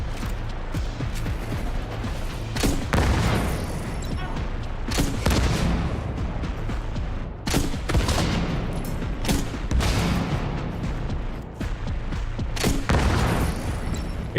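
Signature-weapon gunfire in The Division during the battle for Brooklyn: dense, continuous volleys of shots and booming blasts, loud and close, with sharp bursts standing out every couple of seconds over a steady roar of combat.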